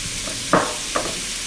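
Sliced Zumo sausage sizzles in a hot pan, a soft steady hiss with two short bursts of louder sputtering as pieces land or are stirred.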